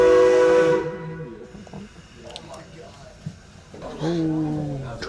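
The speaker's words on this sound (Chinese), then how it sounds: "现在我们的火车缓缓的移动。" A loud steam train whistle blasts at the start and sounds again near the end, with hissing and rumbling between, while voices chatter nearby.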